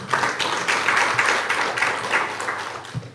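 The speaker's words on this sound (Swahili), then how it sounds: "jipigieni makofi" Audience clapping at a Yas shop launch at the SGR station in Dar es Salaam, a steady burst of applause from a crowd lasting a few seconds.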